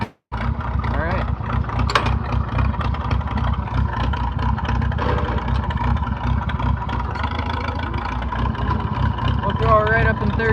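A motorboat engine with a straight-pipe exhaust runs loud and close, a rough throbbing drone that holds steady for several seconds after a brief start, with a voice heard over it.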